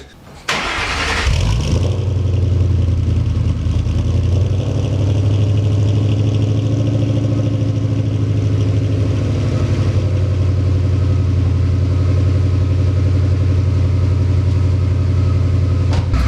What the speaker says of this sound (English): let's just give it a cold start and take a listen to it right now as it sits